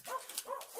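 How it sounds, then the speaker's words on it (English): Dog barks in the background indoors during a Dollar Tree planner craft session: a few short yips and barks spaced through the moment, moderately faint. "sorry for the dog barking in the background."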